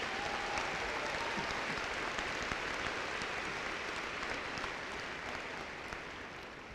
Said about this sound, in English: please give our faculty and staff a round of applause